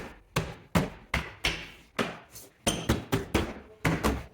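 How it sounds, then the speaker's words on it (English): Plastic clips of a door panel on a 2012-2016 Subaru Impreza snap into place as a series of about a dozen sharp, close knocks and pops at an irregular pace. "work our way around, snapping all of the plastic clips"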